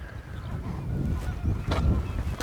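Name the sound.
birds calling on the coast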